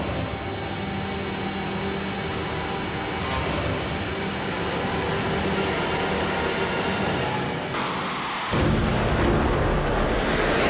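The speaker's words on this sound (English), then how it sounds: "a man on jet-powered roller skates" Jet-powered roller skates worn by a man racing an Aston Martin V8 Vantage Roadster give off a loud, steady jet roar that swells into a harsher, more powerful blast near the end.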